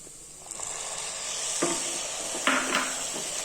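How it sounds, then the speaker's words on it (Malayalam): Ground tomato paste poured into sizzling onion masala for an egg curry, giving a steady frying hiss broken by a few soft stirring scrapes and wet splashes, close and moderately loud with no talking. "2 തക്കാളി അരച്ചത് ഒഴിച്ചു കൊടുക്കാം"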